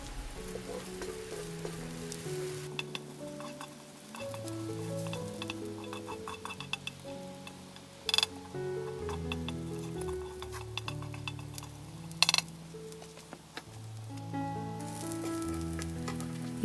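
Green chillies frying in a pan over a homemade rocket stove, a steady close sizzle with occasional light clinks and stirring knocks throughout.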